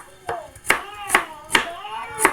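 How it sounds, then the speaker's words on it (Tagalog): A knife chops onion into small thin slices on a cutting board, five distinct crisp cuts at an even, unhurried rhythm, close and clear with no talking. "Slice natin ng maliliit."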